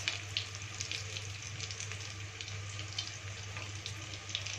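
Potato patties frying in a pan of oil, giving a steady close hiss with small crackles on top of a low hum, with no voices.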